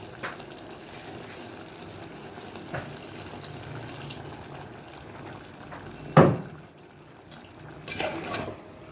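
Water pours and sizzles into a hot pan of frying chicken, with a sharp hissing burst partway through over a steady background of cooking noise.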